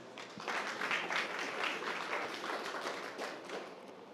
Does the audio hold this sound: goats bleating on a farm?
no